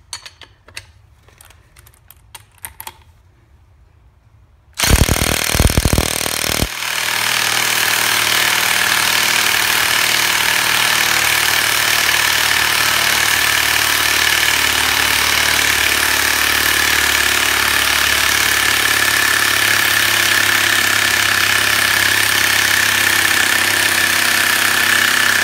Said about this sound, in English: You don't need a cordless impact for that.